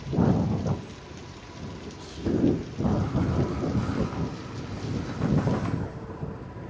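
Heavy rain pours down continuously, with low rumbles of thunder rolling in and out and no voices.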